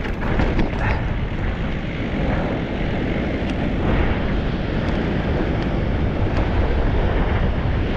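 Onshore wind buffets the microphone in a loud, continuous, broadband roar with no pauses, drowning out everything else.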